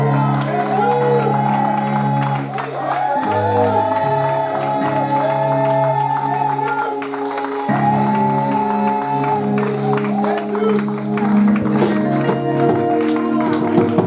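Congregation at a French-language church service cheering and acclaiming loudly, a dense swell of shouts and whoops carried along with sustained music, continuous throughout with voices mixed in.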